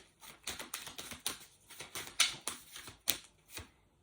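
Quick, crisp riffles and snaps of tarot-style cards being shuffled come in uneven bursts, close and fairly quiet, with no talking.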